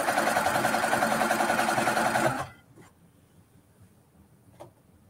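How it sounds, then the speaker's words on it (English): A sewing machine runs fast and steady while piecing a quilt block, a loud close buzzing whir that stops abruptly halfway through, leaving near silence with a faint click or two. "we're going to sew, and we need to press to the light side on this"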